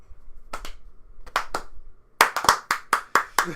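A small group of hands clap, first a few scattered claps, then a brisk run of six or seven sharp, close, evenly spaced claps in a quiet room.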